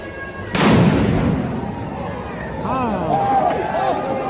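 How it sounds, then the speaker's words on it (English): A bomb thrown by rioters at the front of the Portland federal courthouse bursts with one loud, sharp blast that rumbles away, followed by a crowd cheering and shouting amid street noise. "Rioters threw a bomb at the front of the Portland federal courthouse."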